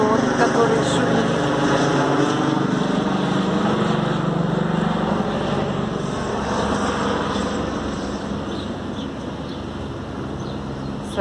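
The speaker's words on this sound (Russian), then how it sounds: "А вот и вертолет, который шумит." A helicopter flies over a university campus where construction is under way, a steady, fairly distant rotor drone that fades slightly toward the end, with a voice talking over it.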